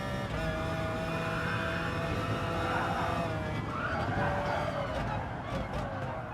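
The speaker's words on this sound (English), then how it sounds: "My tyres are pretty dead at this point. You can see it sliding around all over the corners." Worn tyres squeal and slide through corners in Gran Turismo Sport on the Sardegna circuit, with a steady engine drone beneath drawn-out screeching skids that rise and fall, and no talking.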